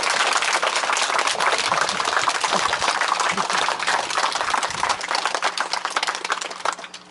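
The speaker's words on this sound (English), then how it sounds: "Please join us in a round of applause to honor the first responders and their families who are able to be with us" Crowd applause at a school ceremony honoring first responders and their families, a sustained loud wash of many hands clapping close by that tapers slightly at the end.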